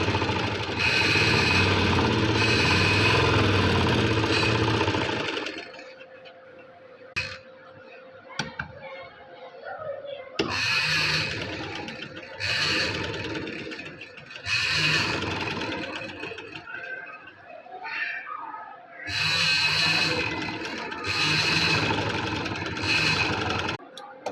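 A sewing machine stitches gathers into a frock in bursts of rapid mechanical chatter, loud and close, separated by quieter pauses with handling of the fabric.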